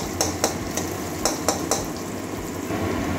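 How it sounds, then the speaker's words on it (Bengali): Chopped onion sizzling in oil under a constant hiss, with a few sharp metallic taps of a spoon against the pan early on. "পেঁয়াজের কাঁচা গন্ধ যাওয়া পর্যন্ত ভেজে নেবো।"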